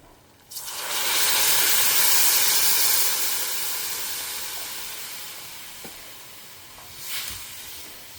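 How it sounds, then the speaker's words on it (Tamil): Peanut curry simmering on a stove gives a strong, near hissing burst of steam that swells and then slowly fades, with a brief clink and a second short hiss later on. "இது நல்லா கொதித்து எண்ணெய் பிரியணும் அப்போ தான் வேர்க்கடலையும் கொஞ்சம் வேகும்"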